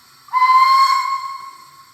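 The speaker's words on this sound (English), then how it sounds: "So we got 2 short whistle" A Dapol Hawthorn Leslie model steam locomotive's sound-decoder whistle gives two short blasts, a shrill hissing tone that starts abruptly and fades away, heard alone.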